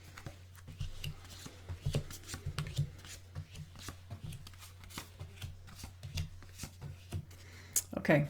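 Tarot cards being shuffled and flicked, with soft irregular riffles and slaps close by while someone talks over them at a low level.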